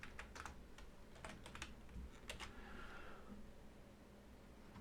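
Quick bursts of clicks come from a computer keyboard as someone types, quiet and close over a faint background hiss, with short irregular pauses between the runs of keystrokes.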